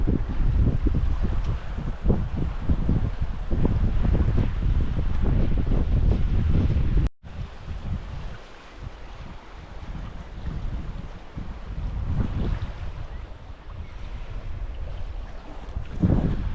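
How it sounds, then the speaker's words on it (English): Wind rushing past a sailboat running downwind, a strong steady roar that dips sharply midway, then returns as softer, gusting buffeting against the microphone. "The wind is coming from behind us, as you can see."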